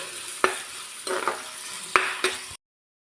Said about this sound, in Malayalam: ചതച്ച് വച്ചിരിക്കുന്ന ചെറിയുള്ളി വെളുത്തുള്ളി പച്ചലമുളക് ഇട്ട് കൊടുക്കാം നന്നായിട്ടൊന്ന് നമുക്ക് വഴറ്റിയെടുക്കാം